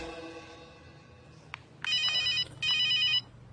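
A phone rings twice, two bursts of an electronic trilling tone after a moment of quiet background and a faint click.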